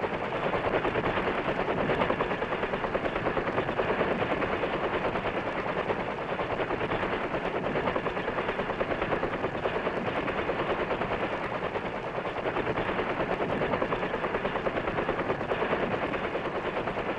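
Low-flying US Navy rescue helicopter over jungle in Vietnam, a loud, steady, dense rotor and engine roar with rapid chopping that continues unbroken from start to end, with no talk.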